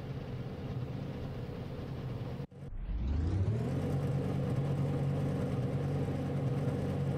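A racing car engine in a driving simulator on a Trak Racer rig drones steadily, cuts out for a split second as if shifting gear, then climbs in pitch while accelerating, with no talking.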